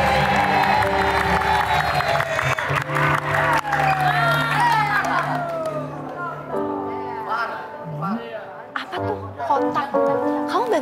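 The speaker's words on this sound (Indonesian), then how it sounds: "Aku boleh minta tepuk tangannya?" A studio audience at the Indonesian dating show Take Me Out Indonesia 2024 claps and cheers loudly over music, then fades as a host's voice takes over.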